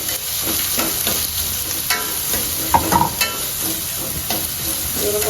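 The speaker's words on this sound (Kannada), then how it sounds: "ಈರುಳ್ಳಿ ಸ್ವಲ್ಪ ಬೇಯಬೇಕು ಎಣ್ಣೆಯಲ್ಲಿ." Onions sizzle and fry in hot oil in a pan, a steady crackling hiss broken by occasional stirring scrapes, with no voices.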